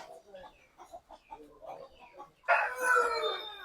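A rooster crows once, loud and close, in a long drawn-out call that follows a few softer clucks and chatter-like sounds from the bird.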